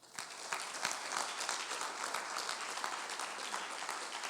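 Applause from a church congregation, a dense patter of many hands clapping at moderate distance, steady and continuous for a few seconds with no speech over it.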